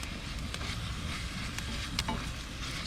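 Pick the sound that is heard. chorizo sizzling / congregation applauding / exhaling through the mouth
chorizo sizzling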